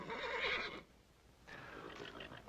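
A horse neighs loudly and close by in a shrill, wavering whinny lasting under a second. After a short pause a second, softer whinny follows, with no talk over it.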